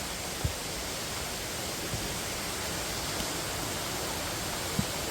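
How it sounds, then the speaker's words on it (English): A waterfall in the hills of Sakleshpur sends out a steady, dense roar of rushing water, broad and unbroken, with no voices and only a few faint clicks over the constant wash. "we have reached to the waterfall"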